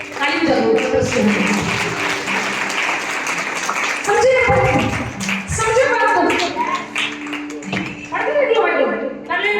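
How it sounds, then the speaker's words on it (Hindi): Clapping from a church congregation during a Hindi sermon, heard in bursts beneath a preacher who keeps talking throughout. "ताली बजाओ पतरस को"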